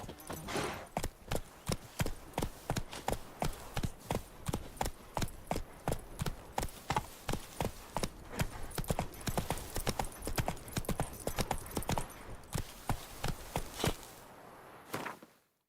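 Roach, the horse in The Witcher 3, gallops with a fast, steady drumming of hooves, loud and close and clip-clopping without a break, until it stops abruptly near the end.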